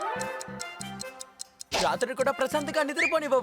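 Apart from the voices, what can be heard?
clock ticking sound in a cartoon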